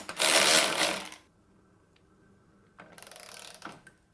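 A ratchet tightens a bolt on a wheel of a MasterForce table saw stand, with two close bursts of rapid clicking separated by a quiet gap.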